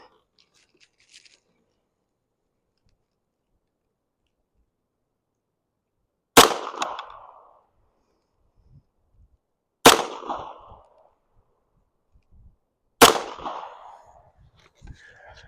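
Three sharp, isolated .22 LR automatic pistol shots at 20 yards with cheap Walmart ammo, evenly spaced several seconds apart after a long quiet stretch, each a crisp crack with a short decay.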